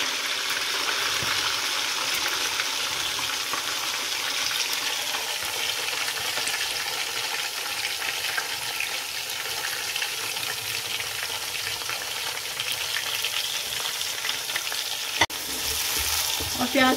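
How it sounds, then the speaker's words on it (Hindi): Chopped onions fry in hot oil for chicken pulao, giving a steady, close, dense sizzle that runs unbroken for the whole stretch with no voices over it. "इसी ऑयल में मैं ये प्याज डालूंगी।"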